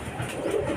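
Soft cooing of racing pigeons arriving at the loft after a derby race, a gentle, muffled murmur, fairly close, over a low background hum; no one speaks.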